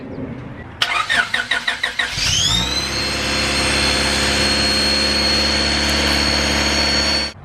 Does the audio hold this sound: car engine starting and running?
yes